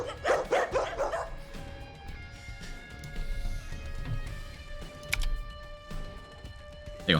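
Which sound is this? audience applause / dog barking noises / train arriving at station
dog barking noises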